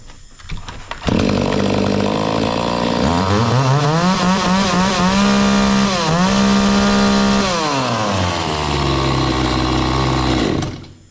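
A petrol Oleomac pole pruning saw, freshly repaired with a cleaned carburettor and replaced hoses, starts and runs loud and close, its engine whine climbing and dipping through several rev changes before cutting out.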